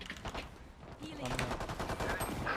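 Gunfire in the shooter game Valorant, rapid shots under a dense wash of game noise and an excited voice talking over it.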